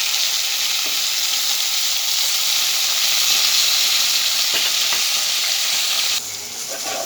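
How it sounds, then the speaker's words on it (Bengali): Home-grown pond fish frying in a pan, a steady loud sizzle and hiss running continuously, with faint stirring clinks and a slight drop in intensity near the end. "গ্রামের একদম ছাড়া অরিজিনাল মাছ ভাজতেছি"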